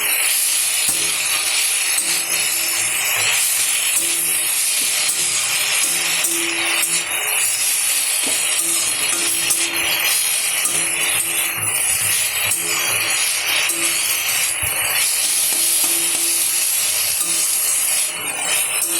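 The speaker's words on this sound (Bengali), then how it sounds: "এই ফুল ভাজা হচ্ছে এখনও।" Salted, squeezed flowers frying in a pan in a home kitchen, giving a constant loud sizzling hiss with fine crackle that runs unbroken throughout.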